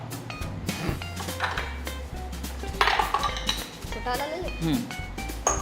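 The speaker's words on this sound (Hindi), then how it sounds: "एक बाउल उठाओ।" A bowl is picked up from among kitchen utensils while a vermicelli pancake sandwich is being made. The clatter gives several close, bright clinks of dishes and cutlery in quick succession.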